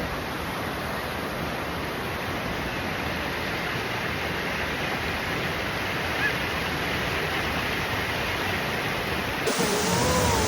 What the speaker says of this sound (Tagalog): We are in the waterfall.